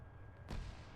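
A grenade explodes in a military video game set during an AAF invasion: one sudden, loud, deep blast about halfway through that rumbles on for a moment after the quiet before it.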